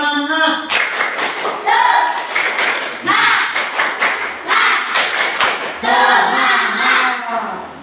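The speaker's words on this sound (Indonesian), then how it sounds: "Kita tepuk semangat dulu." A classroom group of teachers performing the rhythmic 'tepuk semangat' spirit clap, sharp unison claps in quick repeated bursts with brief pauses, close and loud, mixed with shouted chant-like voices.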